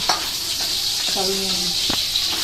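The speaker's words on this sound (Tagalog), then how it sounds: "magigisa na po si mama ng bawang at sibuyas" Garlic and onion sautéing in a pan where fish was fried, with a loud, steady sizzle, a few scraping stirs and a brief tonal squeak partway through.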